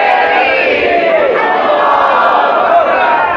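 A large gathering at an Islamic religious sermon roars a slogan back in unison, a loud, dense mass of voices sustained throughout.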